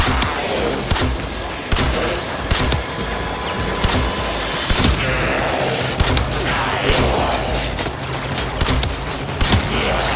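Rapid enemy gunfire in the Warframe video game, a dense stream of sharp shots and impacts running continuously over busy combat noise, with no talking.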